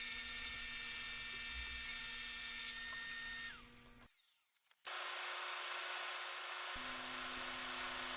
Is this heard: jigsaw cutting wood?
yes